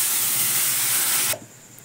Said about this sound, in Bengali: 5 ফোড়ন তেলে দিয়ে এবার এটা ছেড়ে দেবো।